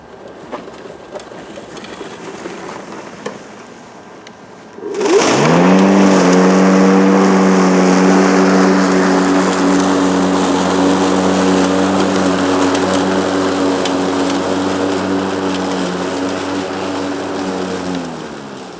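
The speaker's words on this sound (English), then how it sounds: "do some side discharge mowing" A Mighty Mow 21-inch 2x20V electric cordless lawn mower, set up for side discharge, starts from quiet after a few seconds and runs as a loud, steady motor whine under load, with a faint dip and sway toward the end.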